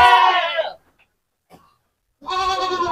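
A Peranakan Etawa goat of the Jerabang type gives two loud, near bleats, each about a second long and separated by a short silence.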